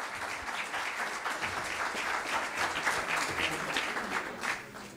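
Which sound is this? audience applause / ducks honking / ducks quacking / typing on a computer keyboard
audience applause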